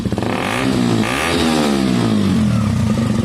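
A KTM 125 motorcycle fitted with a Black Widow aftermarket exhaust, revved hard while stationary, its engine note climbing and falling in a loud, raspy, sustained blip up close.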